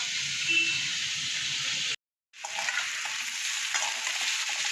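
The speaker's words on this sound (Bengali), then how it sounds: "পেঁপে আলু ছোলা বাদাম দিয়ে মশলা দিয়ে আমার এটা কষানো হয়ে গেল" Papaya, potato and chickpea curry frying with spices, a dense loud hiss of sizzling with stirring scrapes, cut by a brief silent gap before the sizzle resumes.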